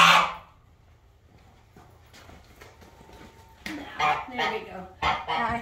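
A pet goose honks loudly and briefly at first, then after a quiet stretch lets out a rapid series of harsh honks, alone without talking.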